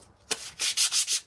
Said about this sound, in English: Try to sand with the grain, like always.